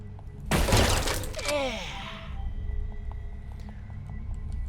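Shotgun blast in the video game Utopia 9, a single loud close-range shot with a ringing, whooshing tail that decays over about two seconds, then a quieter hum with faint clicks.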